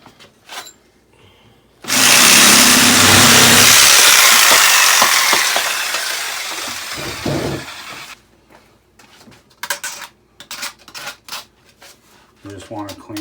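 A loud power saw cuts through a piece of pipe during a new pipe installation, one sustained whining run of about six seconds that winds down, followed by clatter and brief talk.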